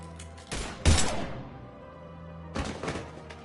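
Bursts of gunfire in the video game Mass Effect, a couple of sharp loud shots with a thumping impact, then a short rattling volley after a quieter pause.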